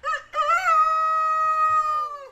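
A man imitates a rooster at a national cluck-off contest, delivering one loud, close, drawn-out crowing call with a sharp opening cluck.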